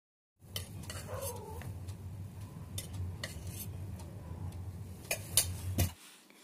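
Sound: mixing samosa dough with salt and oil

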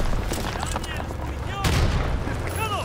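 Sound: machine gun fire in video game Call of Duty WWII

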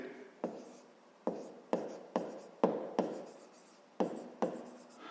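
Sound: writing by hand on paper

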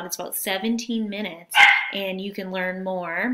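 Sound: dog barking

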